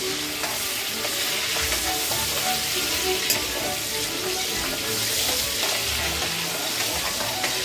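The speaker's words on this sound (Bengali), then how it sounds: "তেলগুলো এখন ফুটেছে।" A fish head fries in hot oil for a Bengali machher tel curry with gourd leaves, giving a continuous close bubbling sizzle with small crackles that hold steady throughout.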